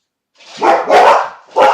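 A dog barks three times in quick succession, loud and close, each bark short and sharp against otherwise silent surroundings.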